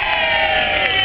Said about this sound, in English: Should we give us a cheer after 3?